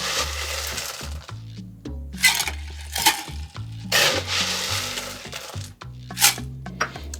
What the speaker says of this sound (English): We are going to fill this with some ice.